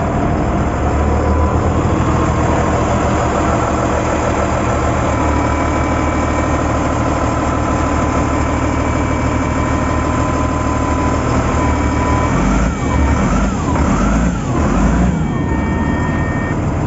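A Cat 950G wheel loader's diesel engine runs steadily at close range throughout, with a low rumble and rising tones near the end as it shifts into reverse.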